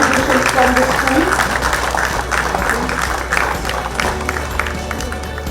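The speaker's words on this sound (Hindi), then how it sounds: "तालियां बजती रहनी चाहिए" An audience claps at a university innovation event honoring school students, producing a dense, steady wash of applause throughout while a voice talks over it.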